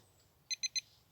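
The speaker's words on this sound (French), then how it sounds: "Je vais attendre le bip" Three short, evenly spaced electronic beeps from a workout interval timer during a home circuit-training session, bright and fairly close over a quiet room.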